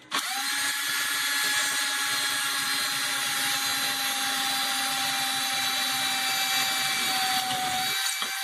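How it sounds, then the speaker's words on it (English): A power drill bores through a part for a homemade pistol crossbow, a loud, close, steady high motor whine held for about eight seconds before it stops. "Get your drill and your drill bits."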